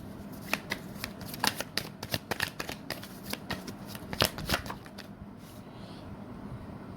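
A deck of tarot cards shuffled close by: a run of quick, crisp riffling flicks for about five seconds, then it trails off into quiet.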